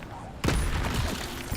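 An Incendio fire spell cast in a video game, heard as a sudden loud, broad whooshing burst that flares up and then roars on for over a second.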